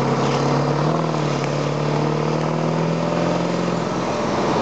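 Newly acquired van's engine running steadily while driving, a loud, continuous low droning hum with steady tonal layers and no pauses, alone without talk.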